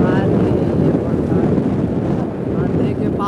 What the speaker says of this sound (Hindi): उधर बीच में बहुत पानी की आवाज़ है जो कि बहुत तेज आ रहा है